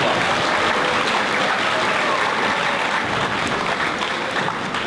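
Loud, sustained applause from a large crowd at a school assembly, steady clapping filling the whole stretch without letting up.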